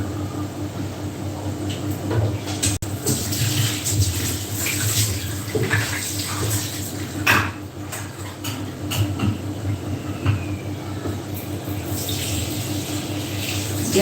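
Tap water runs steadily into a bowl in a home kitchen during cooking, a continuous close hiss and splash that lasts the whole stretch with small clinks over it.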